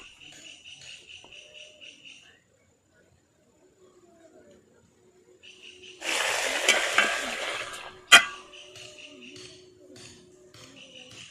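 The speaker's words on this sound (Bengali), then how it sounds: "এরপর সবুজ ফুলকপি ও হলুদ ফুলকপিগুলো ভেজে নেব" Green and yellow cauliflower florets fry in a pan, a burst of dense sizzling that rises partway through with a sharp clatter of the utensil, set between quieter stretches of faint kitchen noise.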